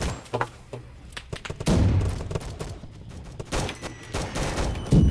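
Mortar and gunfire blasts in the Roblox war game Rolling Thunder: a rapid series of sharp bursts and heavier booming impacts, loud and repeated across the stretch, with no talk over them.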